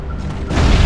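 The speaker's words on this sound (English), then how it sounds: "The explosion weakened the building." Loud, close explosion boom in the video game Gears of War: Judgment, a deep rumbling blast that swells and holds for about a second with no speech.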